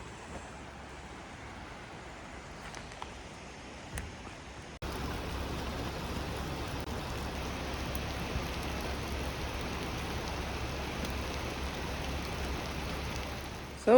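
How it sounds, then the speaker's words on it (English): Heavy rain falls steadily on a van in a dense, hissing wash of drops that grows noticeably louder partway through and keeps drumming without a break, with no voices. "it has been non-stop raining"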